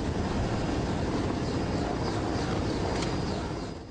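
Helicopter hovering low during a chaotic humanitarian aid drop in Iraq, its steady loud rotor and engine roar filling the scene without break, fading slightly at the end.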